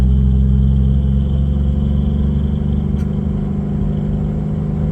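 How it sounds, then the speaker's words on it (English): A 1956 Chevy 210 cruising in third gear gives a steady, close, low rumbling engine drone with a constant hum and no change in revs, heard alone without speech. "We're in third gear, cruising right down the road."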